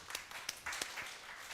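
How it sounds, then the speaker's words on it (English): Audience applause in a DSP lecture hall, a brief scattering of hand claps, fairly faint and loose, lasting only a moment. "let's also give a round of applause to Xu Suhan"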